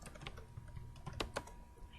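Quiet, close keystrokes on a computer keyboard while entering a name into a spreadsheet cell, a quick uneven run of soft clicks and taps.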